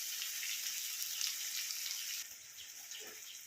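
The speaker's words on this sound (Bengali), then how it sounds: "তো এটাকে খুব ভালো করে ভেজে নেবো আলুটাকে।" Potato pieces fry in hot oil for a Bengali bhetki fish dish, a steady close sizzle that drops a little quieter midway, with light stirring sounds.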